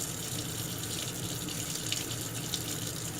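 Tap water runs steadily over disassembled stainless steel Remington 1858 revolver parts being rinsed of black powder residue at a sink, a continuous close gushing stream with no talk.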